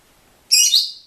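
A pet bird lets out a brief, bright burst of high chirping calls, clear and fairly close, over an otherwise quiet room with no talking.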